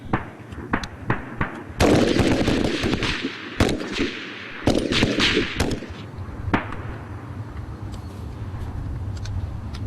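Recruits in basic training fire rifles on a range in a rapid, ragged volley of loud cracks. The shots bunch into dense bursts, then thin out to scattered single reports over a lingering rumble.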